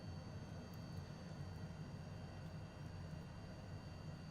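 Steady, even roar of Honda HondaJet business jet engines in Microsoft Flight Simulator during a landing approach on final, a continuous broadband rumble with a faint high whine, constant in level and without talk.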